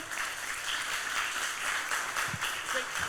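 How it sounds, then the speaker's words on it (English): Brief round of audience applause at a public discussion forum in Mombasa, steady moderate clapping from a gathered crowd for a few seconds. "A round of applause to Odoyo Widi again"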